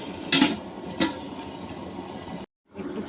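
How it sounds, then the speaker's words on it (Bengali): A lid clanks down onto a metal wok (kadai) of cooking eggplant bharta with tomato and coriander: two sharp, close metallic knocks over a steady background hiss, then a brief cut to silence. "ঢাকা দিয়ে দেবো কড়াইটা।"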